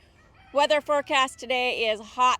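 Chickens cluck and crow in a church garden at St. Andrew Presbyterian Church, heard in short bursts beneath a person talking over them.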